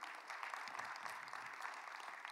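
A church congregation gives a short burst of hand clapping in praise, steady and fairly faint, with a faint voice underneath.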